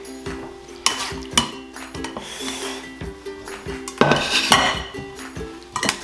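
A cooking pot and metal utensils clink and scrape while empanada filling is prepared: a series of close, sharp knocks and rattles, irregularly spaced, with a louder clatter near the end and no talking.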